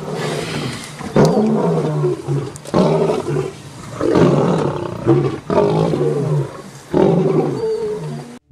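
Lions roaring at night in Gujarat, a pride of about twelve blocking an ambulance's road: loud, deep roars come in repeated bursts separated by short pauses, close and with no voices.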